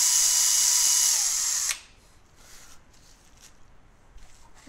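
A machine spindle runs counterclockwise on an encoder test setup, producing a loud, steady high-pitched whir that cuts off abruptly after about two seconds, leaving only quiet background noise.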